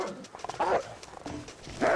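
A dog in the survival video game The Long Dark gives short whimpering yelps and a bark-like cry, close and fairly loud over a low rumble of wind.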